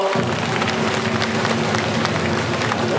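Baseball crowd at an all-star game in Xinzhuang Baseball Stadium, a dense, constant wash of cheering and clapping from a large stadium audience, steady and moderately loud throughout with no pauses.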